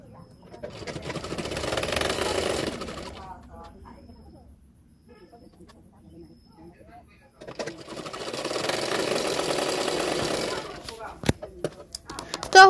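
A sewing machine runs in two sustained bursts while stitching a hook strip onto a double katori blouse, with a quieter pause between them where a voice speaks briefly.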